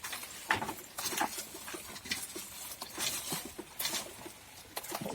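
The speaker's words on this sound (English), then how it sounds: "The rain's started now" Steady patter of rain falling on a nearby surface at a deep-litter chicken compost setup, with scattered louder drips and taps, no voices.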